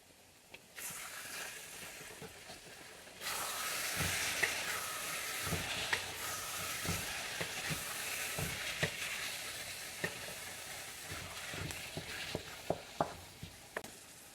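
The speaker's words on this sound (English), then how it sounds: "So I'm going to leave the pan on hot and just let it cook down" Frozen ground beef for a broccoli and beef chow mein cooks down in a hot pan, giving a steady close sizzle and hiss with scattered stirring clicks and scrapes, and no voices.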